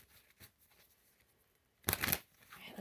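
A tarot deck riffled in the hands during a reading: one brief, crisp burst of flapping, snapping cards, close and fairly loud after a quiet stretch.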